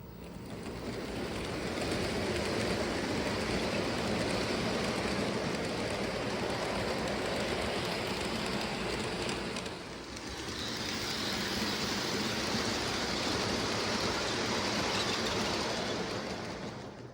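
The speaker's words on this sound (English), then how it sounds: "You may be hearing squeaking right now, but that would be the wheels on my freight cars." Freight car wheels on a model train squeak along the track, heard as a steady, fairly loud rolling rumble with a shrill edge that continues without a break, with a short dip partway through and no voices.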